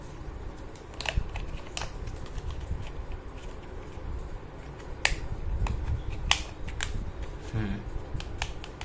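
The plastic battery cover of a toy remote control car being fitted and closed, a few sharp, scattered clicks and snaps close up against quiet room noise.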